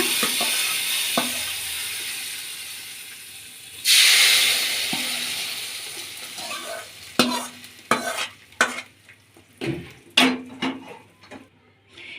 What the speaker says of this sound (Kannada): ಜೀರಿಗೆ ಮಜ್ಜಿಗೆಗೆ ಒಗ್ಗರಣೆ ಹಾಕೊಳ್ಳೋಣ